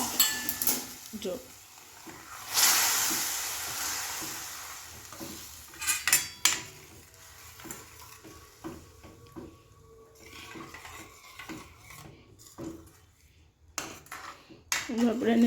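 A spoon stirs rajgira flour sheera with jaggery water and ghee in a pan, making intermittent scraping and clinking against the metal along with soft wet sizzling at moderate loudness.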